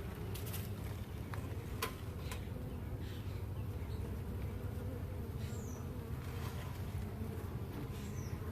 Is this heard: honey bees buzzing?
yes